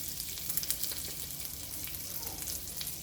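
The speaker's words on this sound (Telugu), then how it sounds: "ఇప్పుడు మళ్ళీ ఇదే ప్యాన్లోకి కొంచెం లైట్గా గీ తీసుకొని వెజిటేబుల్స్ కొద్దిగా వేయించుకుందాం." Onion, carrot and other vegetables frying lightly in ghee in a pan, a soft, even sizzle with faint crackles and occasional stirring.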